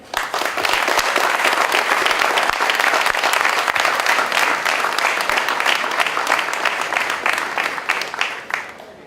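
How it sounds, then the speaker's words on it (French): A large audience claps loudly and steadily at a tournament opening ceremony in Villejuif, the dense applause filling the room for about nine seconds before easing slightly at the end. "Je vous demande d'applaudir très fort Mohamed Ali Chahine."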